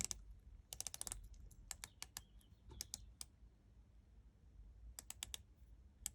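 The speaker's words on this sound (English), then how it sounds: "Now this is a 60 click unidirectional bezel, very firm action." A Certina Action Diver automatic watch's 60-click unidirectional bezel is turned, producing crisp, close, faint ratcheting clicks in quick clustered runs separated by brief pauses.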